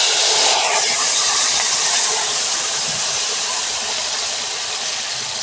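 Marinated small fish drop into smoking-hot mustard oil and set off a loud, steady, broadband sizzling hiss that holds for several seconds and fades only slightly.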